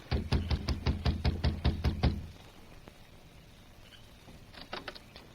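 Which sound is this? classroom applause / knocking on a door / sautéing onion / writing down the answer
knocking on a door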